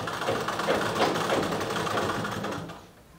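A sewing machine runs steadily while stitching the side seam of a Sabyasachi-style blouse, with fast, even mechanical whirring that holds for nearly three seconds and then stops, heard close and without talk.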